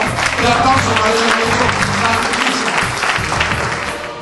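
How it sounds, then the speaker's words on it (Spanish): A magic-show audience breaks into applause, dense clapping filling the room steadily for several seconds, with some voices mixed into the crowd noise. "El aplauso para ella."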